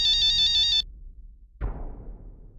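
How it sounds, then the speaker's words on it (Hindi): An electronic phone ringtone chimes an incoming call in a Hindi TV drama, a bright warbling melody lasting under a second before cutting off, followed by silence and a dull thump. "अम्मा का फोन आया।"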